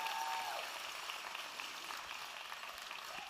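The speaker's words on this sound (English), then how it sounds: "let's give a round of applause to your founders and your event coordinating committee" Applause from the audience at Epique Powercon fills a large event hall: a soft, dense, steady wash of clapping that slowly fades, heard from a distance.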